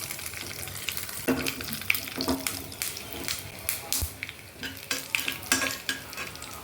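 Dried red chillies, broken and frying with curry leaves in hot oil for a spicy village-style bottle gourd curry tempering, give a steady close sizzle with repeated stirring scrapes and clatter throughout, no talking.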